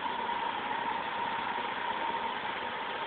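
Opel Senator 3.0 24v C30SE engine idling low at about 560 RPM on a test, a steady even hum with a faint tonal whine, heard alone and unbroken.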